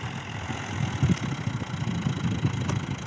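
A Fiat 480 tractor engine runs steadily nearby, a low rumbling idle with slight uneven pulses throughout and no talk.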